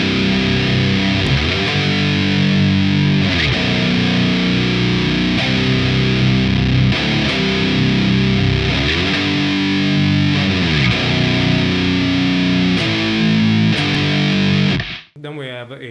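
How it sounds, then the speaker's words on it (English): Heavily distorted electric guitar plays the chorus riff at full distortion, loud and continuous with a steady chugging rhythm, cutting off abruptly near the end. "Now for the second chorus, we have full distortion instead."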